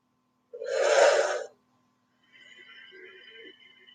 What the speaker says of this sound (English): Breathing in through the mouth Out through the nose.